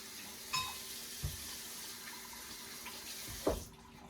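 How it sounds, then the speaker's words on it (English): Potatoes are washed under a running kitchen tap, water streaming steadily into the sink with a few bumps and splashes as they are handled, close by and fairly quiet, with no talking. "What you're going to do with your potatoes is you're going to wash them."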